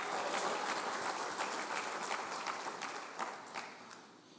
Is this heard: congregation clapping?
yes